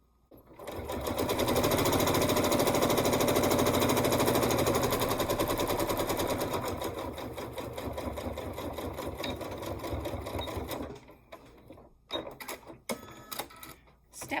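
A sewing machine stitches a 2-inch quilt strip in one fast, loud continuous run for several seconds, slowing and fading, followed by a few short clicks and handling noises.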